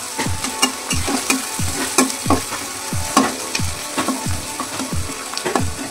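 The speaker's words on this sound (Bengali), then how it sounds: "এবারে আমি বেরেস্তাটা করে নিই" Sliced onions deep-frying in oil for chicken biryani, a constant crackling sizzle punctuated by regular stirring scrapes and taps of a utensil against the pan, close and loud, with no talking.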